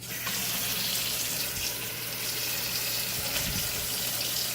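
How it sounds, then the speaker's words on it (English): Tap water pours steadily into a large plastic bag being filled for dyeing eggs, a close, constant rushing stream with faint handling noises underneath. "And then we're going to put some water in it."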